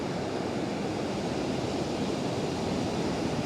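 Continuous ocean surf washing onto a beach where people are out surfing, a steady broadband roar with no distinct individual breaks, close and fairly loud, with no voices.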